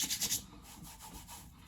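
Beard oil rubbed between the palms after a beard trim, a soft close swishing friction with a few quick strokes at the start and then a steady low rub, no talking.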